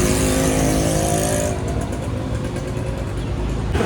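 Dense traffic roaring past on the Manjari highway on a hot day, a steady broadband rush of car and motorbike engines close by, with one vehicle's loud approach fading partway through and another swelling in at the end.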